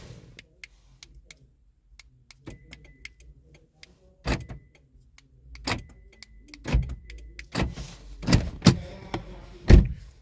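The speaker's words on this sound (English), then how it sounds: "Door lock." A 2007–2010 Toyota Camry door locks with a series of sharp mechanical clunks and clicks, scattered faint ticks early on, then louder close thumps toward the end in a quiet setting.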